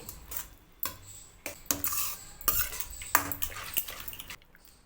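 A metal spoon stirring spinach and cooked toor dal together in a pan, with repeated scraping and clinking strokes against the pan in an uneven rhythm, close and moderately quiet.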